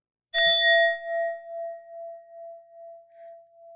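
A single struck singing bowl rings out with a bright metallic attack, then a pure pulsing tone that slowly fades over several seconds, alone.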